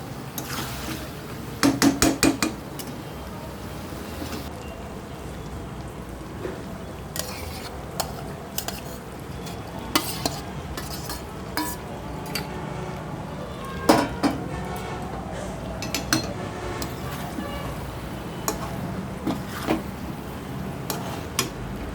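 A spoon stirs paneer and soybean chunks into a thick vegetarian biryani gravy in a pan, giving repeated metallic scrapes and clinks against the pan, irregular and fairly close, with a few louder knocks over a soft background.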